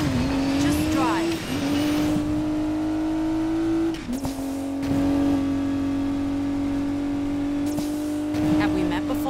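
An Audi S5 Sportback in the Need for Speed Payback racing game accelerates with a loud, steady engine drone that rises in pitch, drops briefly with each gear change, and carries on under occasional speech.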